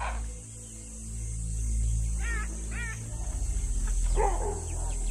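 An African wild dog pack calls at night on the savannah: a few short, high, wavering chirps ring out at mid distance over a low, steady rumble of background noise.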